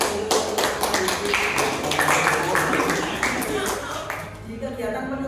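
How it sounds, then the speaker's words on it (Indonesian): A group claps for a colleague during a classroom teaching session, a dense run of overlapping hand claps lasting several seconds, fairly close and steady, with a voice speaking over it. "Kasih tepuk tangan dulu untuk Mas Wahyudi."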